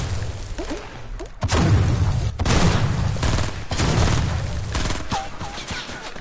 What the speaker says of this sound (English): Snowball launcher.